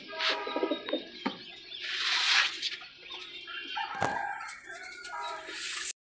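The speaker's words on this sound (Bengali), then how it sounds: "আর এক জোড়া গিরিবাজ কবুতর দেখাচ্ছে" A pair of Giribaz highflyer pigeons coo and rustle nearby in a loft, with soft rolling calls and a few sharp knocks and flutters, no talk over them.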